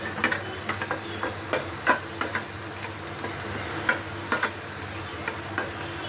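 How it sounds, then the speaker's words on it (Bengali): Garlic fries in a pan with a soft continuous sizzle, broken by scattered clinks and scrapes of stirring, close and fairly quiet with no talk. "রসুনটা একটু ভেজে নেব।"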